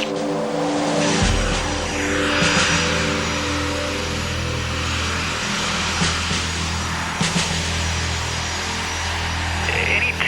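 An A-10 ground-attack jet rumbles in flight during the Desert Storm Gulf War, a steady loud drone with shifting engine tones that runs throughout, mixed with other noise.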